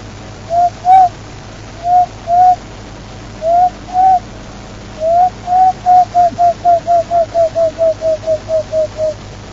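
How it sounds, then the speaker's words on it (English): A dove calls in soft, hollow coos, first spaced in pairs, then a long run of quick repeated notes that gradually fade in pitch. "One of the smaller dove species"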